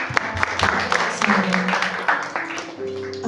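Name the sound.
applause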